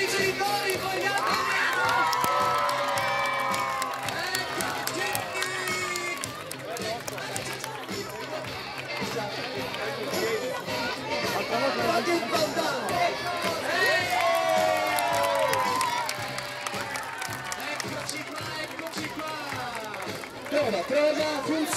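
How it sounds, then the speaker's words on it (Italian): A large crowd of children and parents at an evening summer youth camp gathering in Cormòns, shouting, cheering and whooping continuously and loudly, with running footsteps and an amplified voice heard over the din. "Un urlo per i genitori, vogliamo!"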